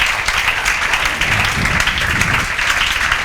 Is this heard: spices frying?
no